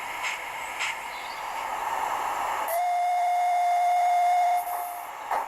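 A small model steam locomotive departs, chuffing softly, then a long, clear whistle sounds for a couple of seconds before the puffing resumes.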